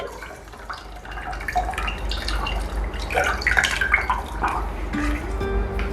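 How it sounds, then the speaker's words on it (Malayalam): Strained rice water is poured through a sieve into a pan, giving a close, uneven trickle and splash with scattered drips and light clinks of cookware. No one speaks. "ഞാനിത് ജസ്റ്റ് ഒന്ന് അരിച്ചിട്ട് ഇതിലേക്ക് ഒഴിക്കുക"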